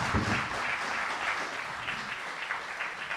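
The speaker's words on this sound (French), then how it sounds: "On les applaudit." Audience applause for round-table speakers at an agricultural conference, a steady wash of clapping from a seated crowd that holds level throughout, fairly distant.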